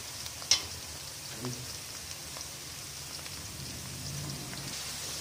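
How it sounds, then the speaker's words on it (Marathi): Onion, green chilli and roasted dalia frying together in oil over medium heat for thin poha chivda, a steady soft sizzle throughout with a brief spoon clink near the start. "सोबतच आपण दालिया टाकूया आणि सर्व एकाच वेळेस फ्राय करायचं, परतून घ्यायचं छान."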